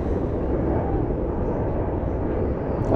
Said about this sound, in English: Oh, wow, there's a big jet right there.